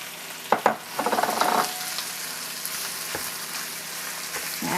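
Italian sausage hitting a pan of sweated onions, giving a steady close sizzle with a few louder clatters and stirring scrapes near the start before settling into an even frying hiss.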